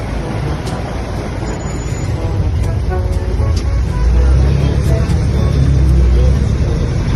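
Roadside traffic on the way to Taal while waiting for a jeepney: vehicles rumble past close by, a heavy engine swells louder partway through, and voices talk over the constant road noise.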